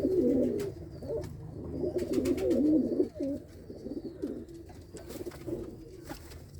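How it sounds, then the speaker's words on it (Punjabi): A big old pigeon coos in repeated rolling phrases, close and fairly loud, with a few short pauses. "ਤੇ ਆ ਲਓ ਆ ਕਬੂਤਰ ਆ ਬਾਈ ਯਾਦ ਮਿਠੜੀ ਵਾਲਾ ਵੱਡਾ ਕਬੂਤਰ"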